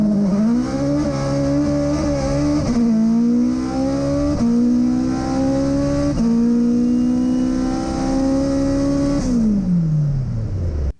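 A black Toyota MR2 four-cylinder, two-wheel-drive race car screams through a record-setting run, close and loud, its engine climbing repeatedly through rising gear pulls with brief dips at each shift before the note falls away at the end.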